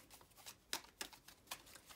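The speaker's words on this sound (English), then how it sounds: "Get some shuffles in." Oracle cards being shuffled by hand, a run of quick soft riffling bursts and sharp papery snaps close by, with no talking.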